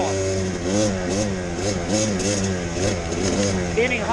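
A Kawasaki KDX200 two-stroke dirt bike engine revs with repeated throttle blips, its pitch rising and falling in a steady, buzzy, close-up drone.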